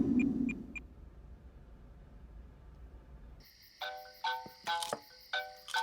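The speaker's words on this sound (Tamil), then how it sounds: "யார் அது இந்த நேரத்துல ஃபோன் பண்றது?" A phone ringing with an incoming call, a bright repeating electronic ringtone melody that starts after a few seconds of low background hum and a few short beeps, fairly close and alone with no talk over it.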